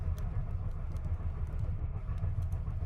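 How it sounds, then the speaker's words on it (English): A train rumbles low and steady on the tracks, with faint rhythmic clicks from the rails over a continuous hum. "the gentle clatter of the train"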